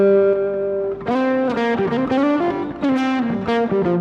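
An acoustic guitar run through a TC Nova System with overdrive switched on, sounding distorted and harmonically thick; a sustained note rings alone, then several strummed chords and bends follow in bursts, loud and close.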